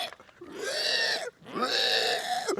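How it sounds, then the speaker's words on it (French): A pig grunts and squeals in two drawn-out, nasal bursts separated by a short pause, fairly close and moderately loud, with no talking over it. "Oh le cochon! Oh le cochonou! Oh la belle bête!"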